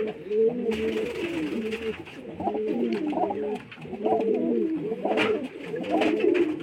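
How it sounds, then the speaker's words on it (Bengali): Several pet pigeons at a house coo close by, with repeated warbling, throaty phrases that overlap and swell and dip in loudness with no pauses. "দেখুন পায়রা দুটো"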